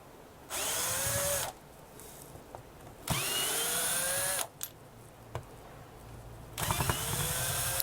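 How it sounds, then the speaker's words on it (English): A power screwdriver removes screws from a wooden guitar-building form, giving three loud, whirring bursts about a second long, each rising in pitch as it spins up, with small clicks and knocks between them. "I'm gonna take the screws off and show you the inside."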